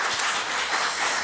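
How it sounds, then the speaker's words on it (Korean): A church congregation at a Sunday worship service gives a brief burst of applause, many hands clapping in a dense, steady wash at moderate volume with no talking over it. "좀 힘내라는 뜻으로 한 박수로 여러분 내시기 바랍니다"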